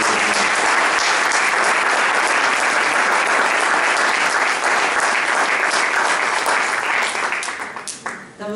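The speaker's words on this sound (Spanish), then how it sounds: "denles un fuerte aplauso" A church congregation gives strong, dense applause that stays loud and even for about seven seconds before fading out quickly near the end.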